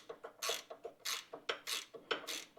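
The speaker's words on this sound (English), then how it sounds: "loosening the 318 millimeter nuts on top of the strut housing that hold it to the frame of the vehicle" A ratchet loosening the nuts on top of a strut housing on a 2024 Silverado 1500, making a quick run of rhythmic clicking pawl ratchet strokes heard close and fairly quiet.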